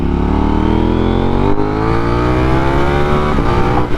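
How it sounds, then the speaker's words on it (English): KTM Duke 890R motorcycle engine roars loud and close, pulling hard through second gear with rising pitch, then a brief dip at a shift into third and a held high-revving drone during a wheelie. "Rode that one all the way through second, shifted to third, held it for a little bit."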